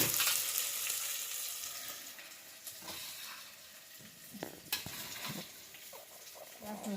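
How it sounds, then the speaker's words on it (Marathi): Curry leaves roast in hot oil while poha is stirred in a pan, a soft crackling fry under irregular scraping, tapping and stirring strokes close by. "कडीपत्ता भाजत पोहे हलवून घेऊ"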